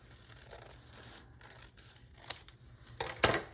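Scissors trim the edge of folded paper for a junk journal, a few quiet snips leading up to two sharper, louder cuts near the end, with nobody speaking in a quiet room.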